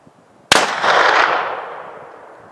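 A single loud, close rifle shot fired at an elk during a hunt in Utah, a sharp crack followed by a long rolling echo that fades over about two seconds.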